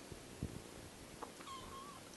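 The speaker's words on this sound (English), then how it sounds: "Squeaking kittens." Kittens give faint, thin squeaks and small mewing sounds in a quiet indoor room, with a few soft scattered noises around them and no talking.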